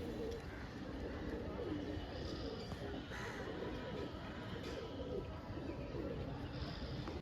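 Pigeons at a market in Srirampur coo faintly beneath steady background din and murmuring voices, the low calls blending into continuous noise.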